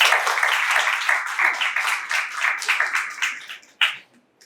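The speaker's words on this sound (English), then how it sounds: "So a big applause for them." Applause for participants at a chemical engineering international conference certificate distribution: a brisk patter of many hands clapping that gradually thins into a few scattered claps and a last louder clap before falling quiet.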